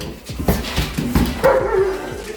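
A dog barks and yips in quick bursts close by, giving several sharp barks and a whine, with some background movement.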